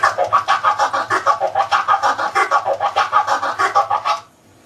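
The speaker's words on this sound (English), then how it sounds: "later on we're going to use the fader to chop it up, so it'll sound like this" A DJ turntable record scratch is chopped up with the crossfader into rapid, evenly spaced stuttering cuts, around twenty quick bursts close up over four seconds, then it stops abruptly with no voices.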